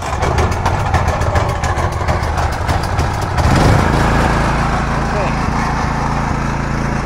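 A portable generator engine pulls over and catches, shifting from a rapid rattling crank into a steady, loud mid-pitched running drone that continues close by, with a brief spoken word near the start.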